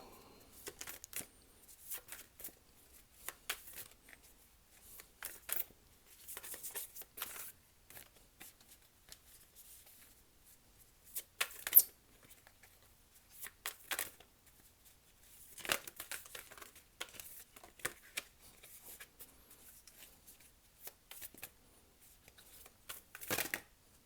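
A deck of tarot cards is shuffled repeatedly at close range, soft riffling and sliding bursts separated by short pauses, with no voices.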